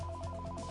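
A telephone rings with a rapid warbling electronic tone that pulses evenly. The burst is brief and steady, with nothing else heard.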